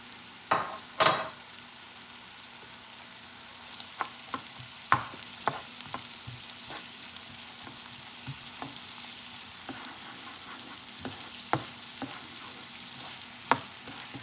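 Onion and garlic sauté in a pan, a low steady sizzle under scattered clicks and scrapes of a utensil stirring, with a couple of louder knocks near the start; close, quiet and without speech.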